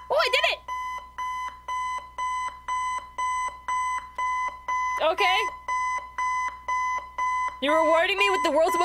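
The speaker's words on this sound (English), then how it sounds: "An alarm clock?" Alarm clock in the horror video game Five Nights at Freddy's 4 rings with loud, steady repeating electronic beeps, alone for most of the stretch, with brief bursts of other game noise at the start, middle and end.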